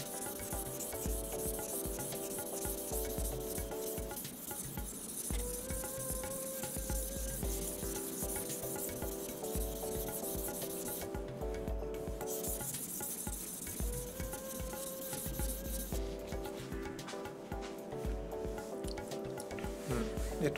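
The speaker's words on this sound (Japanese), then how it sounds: "研いでる感じはかなり細かいような感じがしますね" A blade is sharpened by hand on an Iyo natural whetstone, with rhythmic back-and-forth rubbing strokes that repeat steadily, close and fairly quiet, over soft background music.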